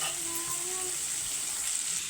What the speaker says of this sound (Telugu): మనకి ఉల్లిపాయ ముక్కలు బాగా ఫ్రై అయిపోతున్నాయి